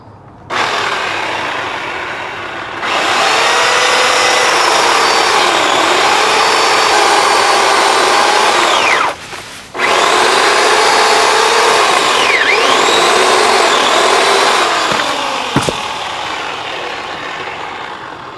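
A chain saw cutting through a large tree branch, loud and close, with a steady high-revving whine that dips in pitch under load, cuts out briefly, then roars again until the cut ends.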